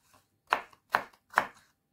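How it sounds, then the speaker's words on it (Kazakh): A kitchen knife cuts a pear into pieces for fruit salad, three crisp, evenly spaced chops against a board, close and clear in otherwise quiet surroundings. "Алмұртымызды да 4-5 топ турап аламыз"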